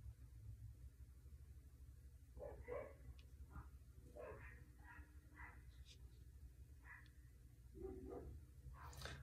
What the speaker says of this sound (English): I'm gonna go so I can get the dogs to come in, and they're at war with the neighbor dogs.